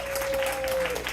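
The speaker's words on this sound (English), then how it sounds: "One last round of applause for Nishita" An audience at an evening belly dance talk gives a performer a final round of applause, a brief, full burst of clapping with a steady electronic hum underneath.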